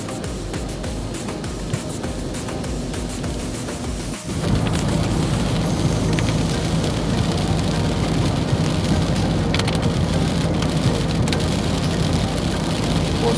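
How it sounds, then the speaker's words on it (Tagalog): Heavy typhoon rain pours steadily in Aliaga, Nueva Ecija, a dense close roar of drops on surfaces that grows a bit louder after a few seconds. "Lakas ng ulan dito mga kababayan."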